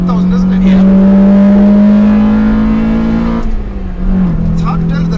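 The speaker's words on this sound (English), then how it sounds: "Once the VTEC kicks in, it's a totally different car." A 1999 Honda Civic Type R conversion engine pulls hard and climbs into VTEC with a loud, rising high-pitched howl heard from inside the car, then eases off as people talk over it.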